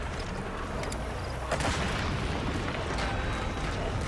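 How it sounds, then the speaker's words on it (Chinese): Shot-down UFOs explode in the video game Metal Gear Solid V: The Phantom Pain, producing a dense, continuous roar of booms and blasts with no gap in the noise. "系咪一射嗰啲飞碟爆炸，"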